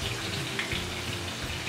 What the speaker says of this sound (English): I'm gonna add my water in here and then add it into the chicken